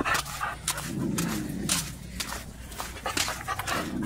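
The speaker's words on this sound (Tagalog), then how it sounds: "Yan yung mga aso dito guys" Dogs heard up close, whimpering, yipping and panting in short repeated bursts, fairly loud, with a faint voice nearby.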